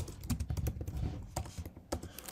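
Typing on a computer keyboard while setting up code, a close run of uneven clicking keystrokes with short bursts and pauses.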